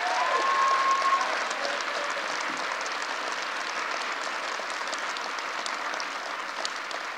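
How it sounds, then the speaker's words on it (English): Steady applause from an audience at a red flag gun bill signing ceremony continues for several seconds on its own at an even, moderate level, with no speech over it. "Let's give her a big round of applause."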